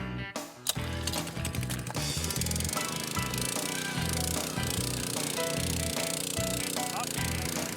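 Powered auger with an extension boring deep into soil for a garden arbor post hole, a loud churning, rattling mechanical grind running continuously after a brief start.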